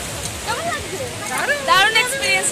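Sea waves wash in at Udaipur beach as a steady, close rushing hiss of surf that swells slightly toward the end, with people talking over it throughout.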